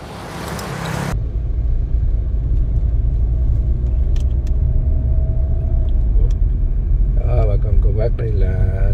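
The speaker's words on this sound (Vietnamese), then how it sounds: "các cái chuyến xe tải rồi ha, xe tải, xe hơi rồi cũng xe máy cũng đang lưu thông" Road traffic of trucks, cars and motorbikes on a busy city street, heard as a loud, continuous rumble of engines passing close by, with a vehicle horn or engine whine briefly rising near the end.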